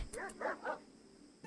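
A dog in the RimWorld video game barks about three times in quick succession, clear and fairly close, followed by a short quiet stretch with a faint blip at the end.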